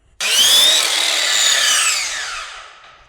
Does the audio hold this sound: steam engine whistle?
no